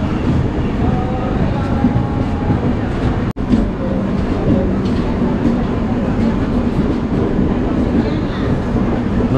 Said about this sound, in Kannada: ನೋಡ್ಬೋದು ಫೈನಲಿ ನಮ್ಮ ಟ್ರೈನ್ ಬಂತು. ಇದು ಕೊಚುವೇಲಿ ಹಮ್ಸಫರ್ ಎಕ್ಸ್ಪ್ರೆಸ್.